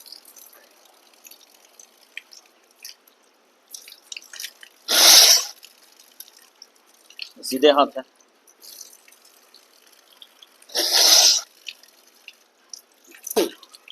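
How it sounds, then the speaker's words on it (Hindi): Forceful nasal exhalations blowing water out of the nose during ritual ablution, two loud sharp bursts several seconds apart with smaller splashes and trickling water between, while someone speaks quietly. "उल्टे हाथ से आपको नाक साफ करना है"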